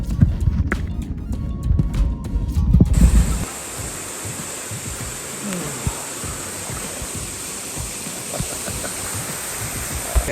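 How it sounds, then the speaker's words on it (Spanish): A waterfall on the Río Camú near Puerto Plata pours steadily as a broad, constant rushing hiss, with heavy close handling noise and thumps at the start before the water sound settles in alone. "Aquí mismo está la cascada y mire de dónde sale el agua."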